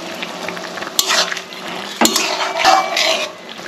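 Small mourola fish tip into a pan of simmering sour curry, giving a sharp clatter followed by bubbling, sizzling and stirring. Two more knocks against the pan sound over a steady close hiss, with no talking.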